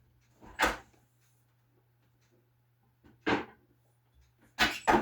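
Kitchen fridge door opening and shutting, with a sharp thud, then a second knock a few seconds later and a double bump at the end, under a steady low hum.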